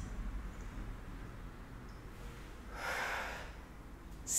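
A person breathing deeply, a faint slow inhale followed by a soft, breathy exhale, close and quiet with no talking.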